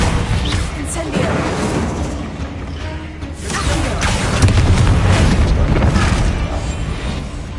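A fire spell cast in the video game Hogwarts Legacy: a dense, loud burst of roaring, booming magical effects and whooshes running continuously throughout, swelling midway, with a voice speaking briefly in the mix.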